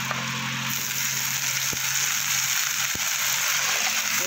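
Chopped radish greens go into a pan of fried onion and garlic, sending up a steady loud sizzle with a couple of sharp clicks as they land, constant throughout.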